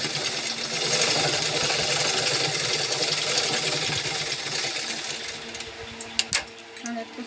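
A sewing machine stitches a bag, its fast, continuous mechanical whir running loud and close, then ending in a few sharp clicks and knocks.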